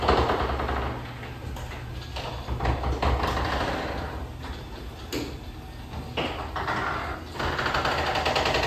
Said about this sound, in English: The opener is a LiftMaster 81602. Here is the wall control. I'll open the door and here we go.